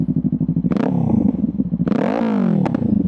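A Kawasaki Ninja 500 fitted with a Hindle exhaust revs up close by, with repeated throttle blips and a rising engine note. A longer rev builds in the middle and drops away, alone with no talk.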